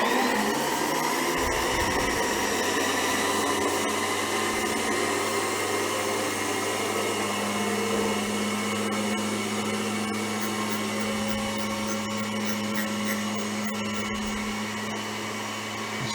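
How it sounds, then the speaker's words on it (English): Grinding wheel refacing engine valves from a Waterloo Boy 5HP engine, a steady close whine and hiss that holds evenly without pause. "Just kind of sweep this grinding wheel back and forth across the face here."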